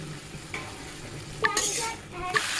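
Fried cauliflower, eggplant and potato are tipped into hot oily spice masala, stirred with a couple of sharp scrapes and a bright sizzling rush, close up with no talking.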